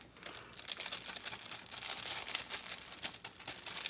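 A cheese packet from a boxed macaroni and cheese kit being handled and cut open with scissors in a home kitchen, giving soft close crinkling and rustling of thin packaging with small snips and crackles.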